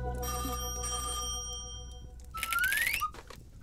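A telephone rings with a steady, bright electronic bell tone for over a second, then a rising whistle-like sweep and clatter follow.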